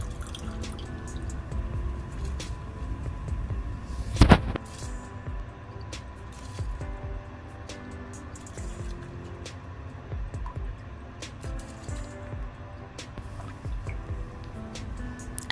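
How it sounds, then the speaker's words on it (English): Bubbling, dripping water with a brief splashy rush as something is poured in, then continued soft simmering and liquid gurgles. "So now water is boiling."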